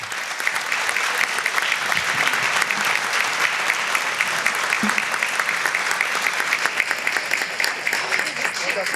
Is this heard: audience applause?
yes